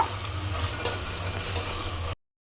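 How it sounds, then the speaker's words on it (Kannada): Chicken biryani masala frying in a pan, a steady close sizzle with faint stirring scrapes, continuous until it cuts off abruptly near the end. "ಇದು ಸ್ವಲ್ಪ ಹಸಿ ಸ್ಮೆಲ್ ಹೋಗೋವರೆಗೂ ಫ್ರೈ ಆಗಲಿ"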